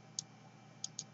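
A computer mouse gives three faint, crisp clicks, one alone and then two in quick succession, over a quiet room hum.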